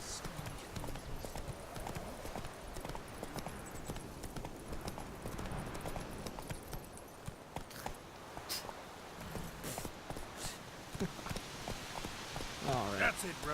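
Roach, the horse in The Witcher 3 video game, clip-clops along in a steady rhythm of hoofbeats over a soft rain-like patter, with some talking in the background.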